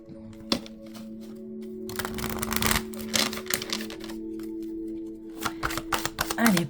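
Oracle cards being shuffled by hand for a reading, a rapid close-up riffling and flicking that comes in bursts and a longer steady run, with a faint steady hum underneath and a brief voice near the end.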